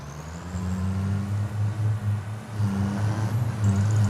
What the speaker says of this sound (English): Let's get this truck back to where it goes.